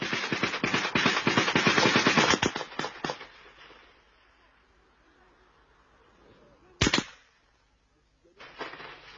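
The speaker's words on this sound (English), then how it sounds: "comrades open fire as soldiers are spotted unexpectedly" Gunfire in an ambush on soldiers along a track: dense rapid bursts of shots crackle for about three seconds, then a single sharp report, then another short burst, with quiet outdoor air between.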